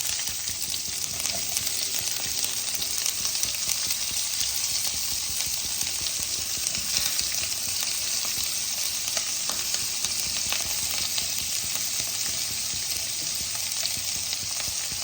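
Onions sizzle and fry steadily in a pan as the first step of a restaurant-style palak paneer, a dense, even crackle that stays close and loud for the whole stretch, with no voices.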